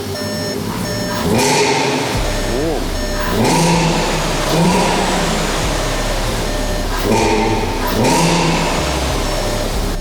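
Tuned VW Golf 7 R with a stage 2 2.0 TFSI engine pushing about 400 hp, revving in repeated bursts over a steady idle, loud and close, with people talking nearby.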